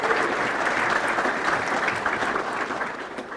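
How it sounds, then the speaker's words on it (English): A crowd at a scholar-athlete awards ceremony gives steady, dense applause, a continuous wash of clapping at even loudness that eases slightly at the close. "So I would like a round of applause for them as well tonight,"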